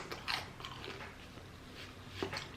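Crunchy bites and chewing of fried wontons during a Chinese food mukbang, a few close, crisp crunches over a quiet background.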